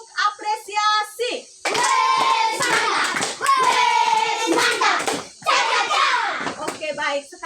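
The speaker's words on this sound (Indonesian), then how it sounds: "Kita tepuk apresiasi untuk semua kita yang sudah melaporkan hasil diskusinya" A classroom of students claps together in appreciation, the hand claps mixed with loud children's and adult voices talking and calling out throughout.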